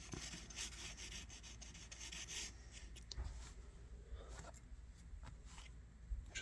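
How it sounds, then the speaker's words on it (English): Very fine 2500 grit sandpaper rubs over a rusty metal part from an antique store, making a faint, close, steady scratchy rasp with uneven back-and-forth strokes. "2500 grit sandpaper, very fine. And we're just going to try to sand on this a little bit."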